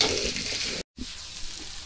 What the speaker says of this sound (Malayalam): അങ്ങനത്തെ ഒരു മൂന്നെണ്ണം ഇങ്ങനെ വെറുതെ ചീന്തി ഇടുന്നുണ്ട്. അപ്പോൾ ഇതൊന്ന് വാട്ടാം.